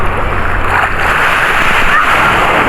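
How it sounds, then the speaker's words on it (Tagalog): Sea waves crash and splash along the shore at Tung Pok Village on Lantau Island, a loud, steady rushing wash of surf that fills the whole clip close by. "Sumasalpok ang alon."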